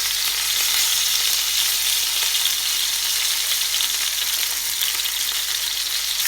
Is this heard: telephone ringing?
no